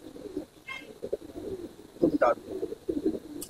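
A grey pigeon in a loft coos in short, soft bursts close by, with brief fluttery sounds between the calls. Someone speaks briefly over the cooing.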